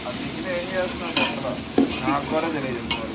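Ginger garlic paste frying in hot oil while being stirred, a steady close sizzle with scraping spoon strokes and a few sharper clinks, no voices.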